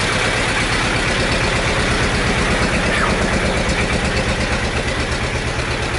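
An old China diesel tractor engine idles just after a cold start, a loud, close, rough clatter with a fast, steady knocking pulse that continues without a break.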